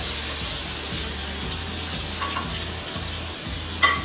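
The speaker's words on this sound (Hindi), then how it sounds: "ऑयल अच्छे से गर्म हो चुका है। अब हम इसमें 2 टेबलस्पून अदरक, हम इसमें ऐड करते हैं 1 टेबलस्पून" Ginger and garam masala sizzle and crackle in hot oil, a steady, loud frying hiss with faint stirring clinks and no talk.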